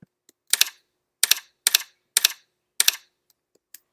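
Typewriter keys strike one after another at an uneven pace, five crisp close clacks with short gaps and a faint final tap, no voices.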